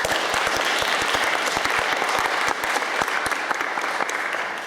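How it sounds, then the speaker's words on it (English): Audience applauding debaters at a Year 8 grand final, a steady dense wash of clapping with sharp individual claps standing out, loud and continuous throughout. "So one more round of applause, please."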